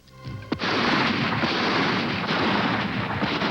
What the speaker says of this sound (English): Bomb blasts on a videotape I ordered from a catalog.